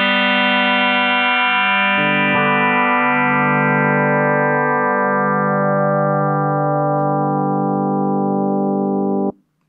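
Sustained guitar chords played through an mPGV effects unit ring out with a held, organ-like tone, changing chord around two seconds in and fading to a sudden stop near the end.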